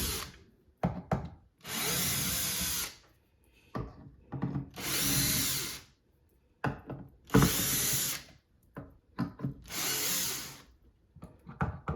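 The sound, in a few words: battery operated screwdriver removing guitar pickguard screws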